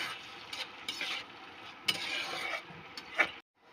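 Boiled matar dal frying in a pan to dry out its water, a close, steady sizzle broken by several scraping stirs of a spatula before it cuts off abruptly.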